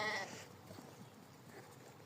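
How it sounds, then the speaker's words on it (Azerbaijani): Sheep let out of a barn into a farmyard give one clear bleat at the start, followed by faint shuffling and low farm background with no talking. "Bu dəfə tövlənin qapısını açıb qoyunlar həyətə qaçdılar."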